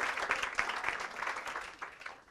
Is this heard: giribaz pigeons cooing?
no